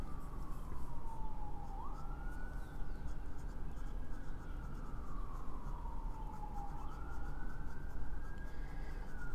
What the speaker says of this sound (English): Sirens in the background, sorry about that.